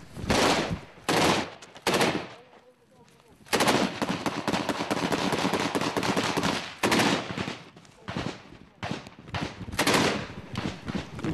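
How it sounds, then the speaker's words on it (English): Small arms gunfire in trench fighting during the Ukraine war: repeated loud bursts and single shots, some close and sustained, broken by brief lulls, with no clear talk. "They've just come under fire in the trenches and they told us to get back to these positions."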